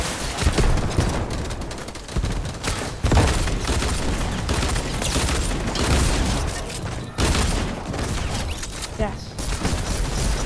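Constant, dense gunfire and explosions fill a shooter video game match, loud and unbroken throughout, with a player's voice speaking briefly over the din.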